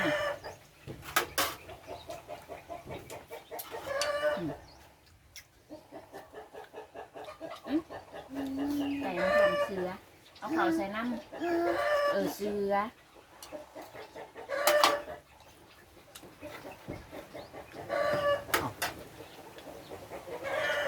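Chickens cluck repeatedly in short, close bursts, with occasional crowing, while people talk intermittently nearby.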